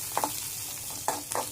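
Chillies frying in a pan for an Andhra-style coconut and raw mango chutney, a soft continuous sizzle with a few quick spoon scrapes, close and moderately quiet, no talking.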